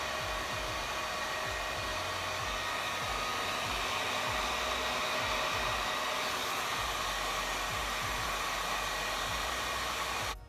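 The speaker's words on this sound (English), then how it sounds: "I feel like I should have the blow dryer in my left hand." A hair dryer blows steadily and loudly for the whole stretch, a constant rushing hiss of air that cuts off abruptly at the very end.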